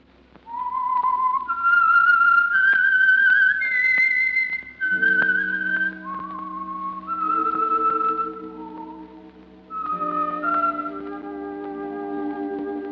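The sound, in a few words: whistled tune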